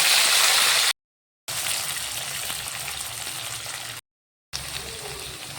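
Sweet potato pieces and five-spice seeds fry in hot oil with a loud, continuous hiss and crackle, broken by two brief silent gaps.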